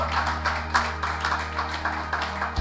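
Church congregation clapping in acclaim during a service, a steady dense patter of many hands with organ or keyboard tones sustained underneath, fairly close and continuous.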